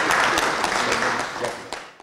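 An audience claps at an anniversary celebration of a law academy in Odesa, a dense, fairly loud burst of applause that tapers off within about two seconds.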